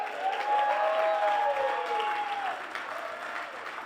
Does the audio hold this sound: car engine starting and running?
no